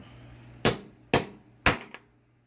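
A hammer strikes a 209 shotgun primer cup three times to flatten its dimple, giving sharp, loud metallic taps in a steady rhythm, each followed by a brief ringing decay.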